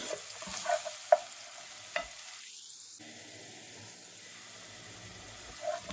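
Onions sauté in olive oil in a pot for boiled chicken, a soft low sizzle with a few sharp stirring clicks and scrapes, fairly quiet and without talk.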